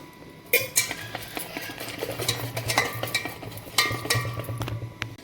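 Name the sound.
mixing Eno into dhokla batter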